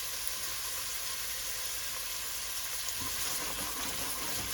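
Onions sizzle and fry steadily in a pan while caramelizing for a lentil dahl soup, a constant close hiss with a slight rise in crackle near the end.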